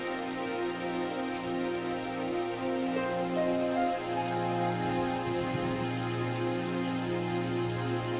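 Cold rain pours steadily on a surface in a cartoon story, a dense, even patter with no voices, continuous and close throughout.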